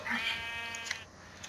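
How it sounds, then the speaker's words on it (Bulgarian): Sheep bleating in the Minecraft video game, a single wavering nasal bleat up front, then fainter game noises and small clicks, with no talk over it. "И в момента овцата ме бута."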